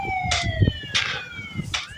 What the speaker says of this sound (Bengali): পুলিশের গাড়ি কিন্তু চলে আসছে শুধু এক দিক দিয়ে।